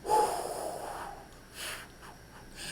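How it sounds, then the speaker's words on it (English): A person exhales forcefully to push air out, one strong blown breath at the start followed by a softer second exhale, close and alone. "I just start exhaling."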